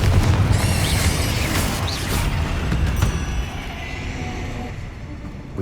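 Blasting-spell explosion in the video game Hogwarts Legacy: a loud, close boom with a crackling burst that rolls into a fading rumble, with no talking.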